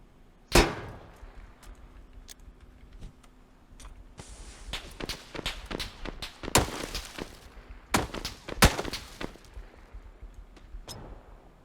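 An M4 rifle fires in the video game PUBG: one sharp shot, then a run of quick single and short-burst shots with brief gaps, mid-loud against a quiet background.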